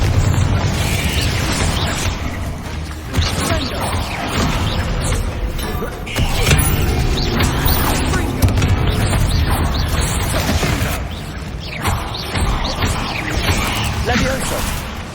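Repeated Confringo spell blasts in Hogwarts Legacy, a steady roar of explosive bursts and crashes across the whole stretch, loud and dense, with a voice calling out spell names over the din.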